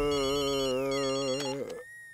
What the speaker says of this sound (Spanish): Llamando al Dr. Clark.